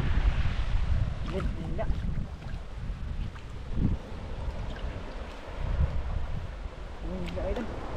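Strong wind roars steadily against the microphone in a continuous rushing blast, with people talking intermittently underneath.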